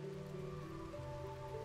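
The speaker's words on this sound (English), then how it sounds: "And then it's raining at the same time." Steady rain hiss from the Rimworld colony game, continuous and even across the clip, with a low tonal music bed or ambience humming underneath; no talking.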